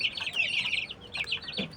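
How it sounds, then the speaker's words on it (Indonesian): Young Bangkok chicken chicks clucking and peeping up close, a busy run of high chirpy calls in quick overlapping bursts with a lower cluck near the end. "jenisnya adalah anakan ayam Bangkok"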